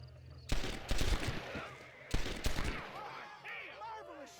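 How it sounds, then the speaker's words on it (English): Gunshots in Red Dead Redemption ring out in two loud bursts of several sharp cracks each, close and punchy, with game voices and ambient sounds filling the gaps between. "Marvelous shot, dear boy."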